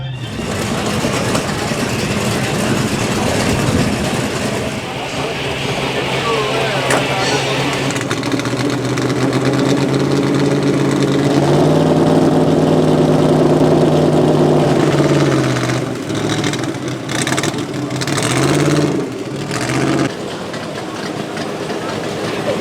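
Several loud classic AC Cobra V8 and GT40 race car engines rumble close by in a paddock, idling and then revving, their pitch rising and falling over a continuous deep drone.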